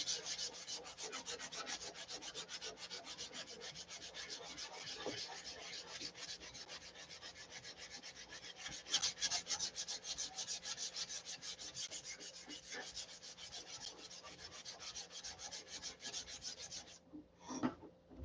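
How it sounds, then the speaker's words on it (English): Sandpaper rubs over a white spot of doubled tissue covering, a continuous fast back-and-forth rasping scrub that carries on steadily for most of the time, close and even, then briefly stops near the end. "That's double tissue, so we're going to sand that off."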